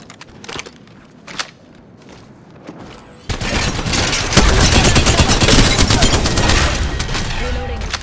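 Gunfire in Apex Legends: a few scattered shots at first, then a sustained loud barrage of rapid automatic fire with booms and thuds, close and dense, a voice speaking briefly amid the fighting.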